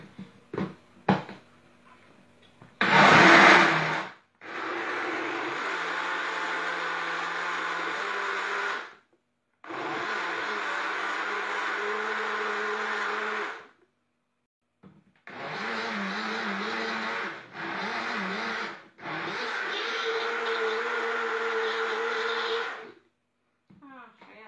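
Kitchen blender whirring as it purees lemon, banana, cream and milk for homemade ice cream, running in several long loud bursts separated by short pauses, with a clatter before the first run.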